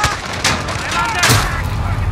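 Gunfire and explosive booms in a Modern Warfare multiplayer match, a few sharp bursts over a continuous noisy bed of battle sound with voices talking over it.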